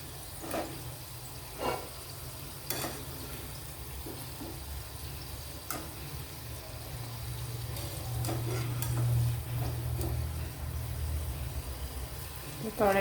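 Sweet ghughara pastries frying in hot oil, a soft continuous sizzle with scattered stirring clicks and small bursts, fairly close and low in level.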